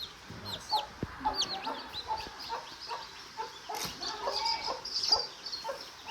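A broody hen clucks repeatedly in a close, uneven series of short calls, with a few softer bird sounds mixed in over quiet background noise.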